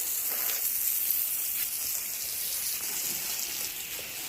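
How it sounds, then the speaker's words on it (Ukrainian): Water pours steadily onto lavender plants in June soil, a continuous close hissing splash with no breaks, left to pool around the plants, with no talking. "Поливаю так, щоб водичка стояла."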